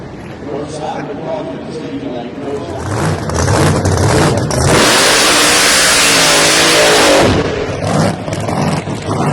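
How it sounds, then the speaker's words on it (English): A Roots-blown G-Force drag race car makes a qualifying run in the Pro Nitrous class at Thunder Valley, Bristol. It idles roughly, then its engine erupts into a sustained full-throttle roar that fades as the car pulls away. An announcer talks throughout. "Roots Blown G-Force race car"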